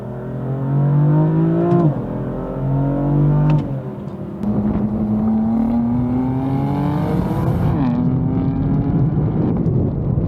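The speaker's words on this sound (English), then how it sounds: "we'll downshift to second here and get just a quick little pull onto the highway" A BMW M4 downshifts to second and pulls hard onto a highway. Loud, close engine revs climb, break at two quick shift points, then rise again in a sustained acceleration with no talk.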